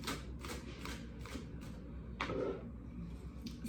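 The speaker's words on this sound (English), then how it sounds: "Let's move on and pull some more tarot cards." A deck of tarot cards being shuffled and handled, with close, soft riffling bursts repeating at a quick rhythm and one louder flap partway through.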